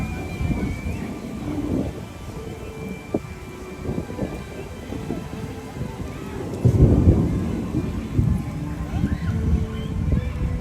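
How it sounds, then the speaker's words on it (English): Rain with thunder moving through a park during a Fourth of July visit, a low rumbling wash that swells louder partway through, heard under people talking nearby. "we've got some rain coming through"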